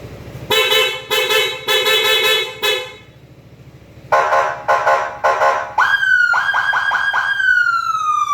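Loud Hella electronic horn on a Yamaha Tricity scooter blasts in pulsing bursts, followed by warbling siren-like tones, close and continuous with no talking.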